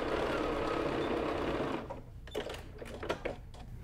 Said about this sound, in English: now I'm gonna take this over to the sewing machine and I am just going to stitch like a quarter inch in from the edge